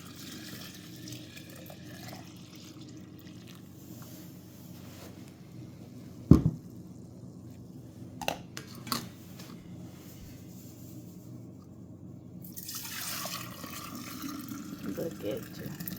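Fresh milk pours through a wide canning funnel into wide-mouth half-gallon jars as a steady, close liquid stream, with a sharp clink partway through and voices talking nearby.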